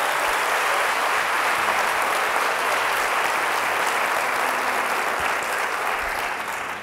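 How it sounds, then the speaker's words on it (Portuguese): A church congregation claps steadily and loudly, a dense wash of applause sustained throughout with no break before easing slightly at the end. "Você pode aplaudir ao Senhor em nome de Jesus?"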